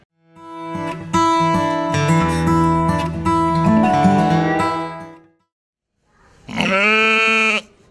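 Sheep and lambs in a crowded livestock show barn, one long loud wavering bleat close by, a brief pause, then another shorter bleat.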